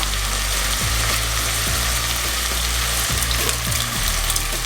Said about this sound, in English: And then we're going to add the tomatoes.